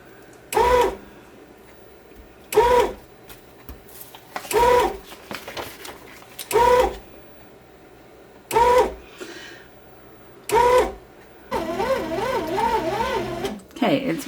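A bread maker kneads dough in short, regular bursts of motor whirring, roughly every two seconds, then settles into a longer continuous warbling churn at the end; close and moderately loud with no talk.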